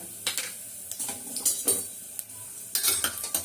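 Cashews and spices fry in a pan, with soft sizzling under quick scraping and clinking as a utensil stirs against the metal several times.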